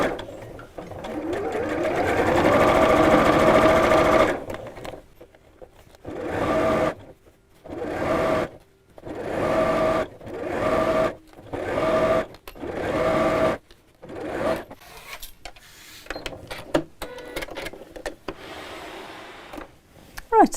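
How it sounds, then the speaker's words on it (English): A sewing machine stitches around the top of a fabric storage pouch, starting with one long continuous whirring run and then breaking into a series of short bursts separated by pauses, close and clear with no talking over it. "Otherwise, sew from the inside like I am here. Let's just go all the way around the top."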